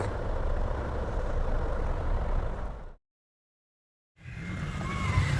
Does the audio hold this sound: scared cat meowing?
no